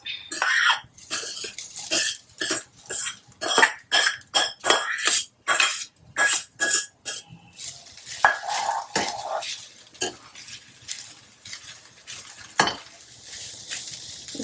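Cooked quinoa stirred into upma in a pan, a sharp rhythmic series of spoon scrapes and clinks against metal, close and distinct, with irregular knocks and a throat clear near the end.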